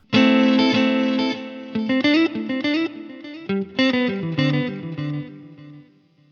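Electric guitar played through a Line 6 Helix with delay placed ahead of a spring reverb: sustained distorted chords and picked notes in loud phrases, repeats and a splashy tail trailing each burst before fading out.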